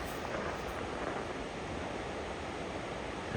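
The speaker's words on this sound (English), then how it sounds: "I hear water. I hear lots of water." Rushing water of a waterfall heard from a walking path, a steady, even broadband roar with no breaks, moderately distant and fairly quiet.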